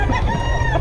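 Chickens and roosters cluck steadily at close range, a dense overlapping chorus of fowl voices with no talking.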